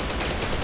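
Gunshots in a video game, a dense burst of rapid gunfire that fills the short moment with loud, continuous noise and no voices.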